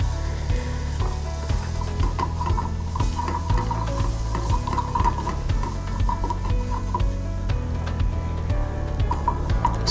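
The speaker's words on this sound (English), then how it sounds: "we'll add in the garlic and ginger paste to cook together with the onions" Garlic and ginger paste frying together with onions in a pan makes a close, steady sizzle, with repeated scraping and tapping from stirring throughout and no voices.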